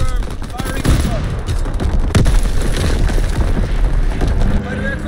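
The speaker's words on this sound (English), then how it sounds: "Artillery ready for orders. Waiting coordinates. Coordinates confirmed. Firing on target." Artillery barrage in a multiplayer video game battle, dense continuous booms and gunfire crashing over one another at close range with no break, loud throughout.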